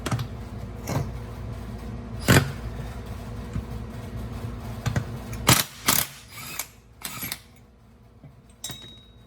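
A ratchet wrench works on the alternator pulley of a 1965 El Camino, giving close, repeated bursts of sharp clicking separated by short pauses, with no talking.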